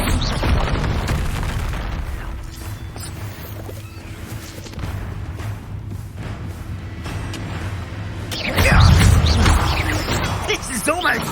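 A Bombarda blasting spell explodes in the video game Hogwarts Legacy with a deep, rumbling boom that swells near the end over a busy bed of low game noise and battle clutter.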